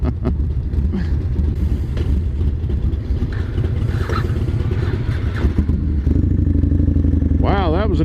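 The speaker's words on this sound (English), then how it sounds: "Just bomb the clutch and stall it right there when the light turns green." A motorcycle at a green light with the clutch dumped, a loud close engine rumble that lurches and cuts out, while a rider talks over it.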